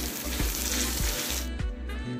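Tempering spices hit hot oil for a coconut chutney tadka, a loud, dense, continuous sizzle and crackle with a few faint clinks and stirring knocks, and no talk.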